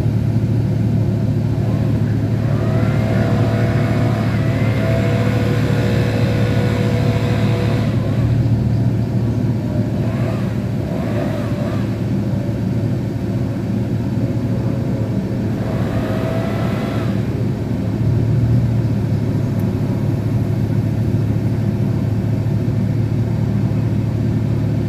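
A car engine revs nearby on a residential street beside a driveway, a steady low rumble underneath with a couple of rising, harmonic revving swells over roughly twenty-five seconds.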